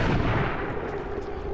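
A heavy gunshot blast in the strategy game XCOM 2, loud and booming, with a thick rumbling tail that stays dense and close without any pause.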